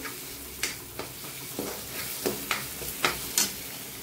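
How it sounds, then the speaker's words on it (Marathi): Masala and chili powder roasting in oil for a vegetable kurma, stirred with a utensil that scrapes and taps the pan in a loose rhythm of about eight strokes over a continuous soft sizzle, with no talk. "हा मसाला भाजून घ्यायचा ह्याच्यात आता तिखट टाकून"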